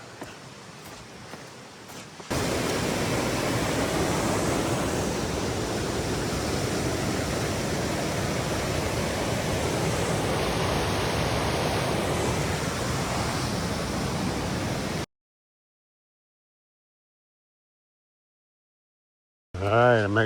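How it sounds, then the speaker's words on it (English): A creek flowing out of Pierce Pond beside a hiking trail makes a loud, steady rushing hiss that holds evenly, then cuts off abruptly, with brief quieter sound at either end. "that's a creek stream comes from Pierce Pond"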